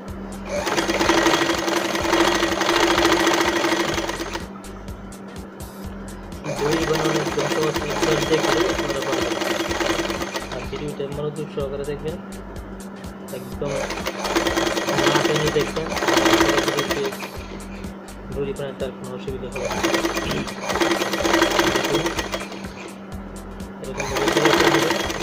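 Sewing machine stitching a thin fabric strip for a cord tie, running in several loud, rapid mechanical bursts of a few seconds each separated by short pauses, with a voice speaking in between and over them.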